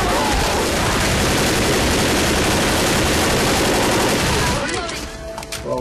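Loud, sustained gunfire and rapid automatic bursts fill the Left 4 Dead video game soundscape continuously, easing slightly near the end.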